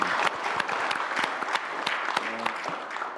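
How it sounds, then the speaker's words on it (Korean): A group at a government cabinet meeting breaks into applause, a short burst of many people clapping with irregular sharp claps, a voice briefly heard beneath. "박수 한번 쳐줄까요?"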